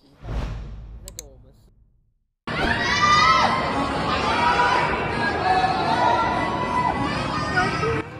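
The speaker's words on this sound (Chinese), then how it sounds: "长兴吕师傅醒狮团一登场，现场掌声不断" After a brief whoosh, a lively crowd bursts into sustained cheering and shouting, with children's voices and chatter, greeting the Changxing Master Lu lion dance troupe as it performs.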